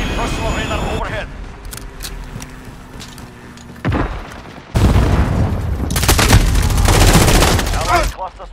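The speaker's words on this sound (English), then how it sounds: "Enemy cruise missile." Cruise missile strike in Call of Duty: Modern Warfare (2019), a heavy roaring blast that swells into a long loud rumble alongside gunfire and game voice callouts.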